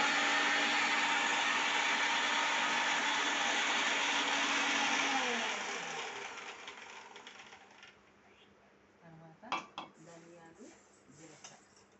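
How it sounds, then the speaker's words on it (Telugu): A mixer grinder whirs loudly for several seconds grinding poppy seeds and spices for a chilli spice powder, then winds down to silence, followed by a few clinks as the jar is handled. "వీటిని ఒకసారి మిక్సీ వేసుకోవాలి"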